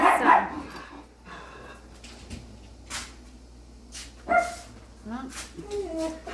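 Dogs bark a few sharp, scattered times at moderate distance, with whimpers and yips between them, alongside kitchen clatter and a person talking.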